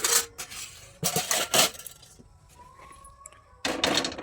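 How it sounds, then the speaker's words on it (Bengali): A metal wok (kadai) set down on a home kitchen stove while making egg pasta, giving a few loud close clanks and scrapes in bursts with quieter gaps between. "একটা কড়াই বসিয়ে নেবে"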